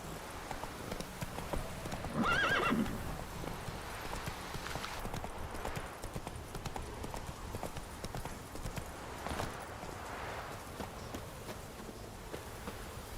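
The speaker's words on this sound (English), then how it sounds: "Whoa there, Roach" Horse in The Witcher 3 video game, hooves clip-clopping in a steady trot with a brief whinny early on, quiet and set against soft ambient game sound.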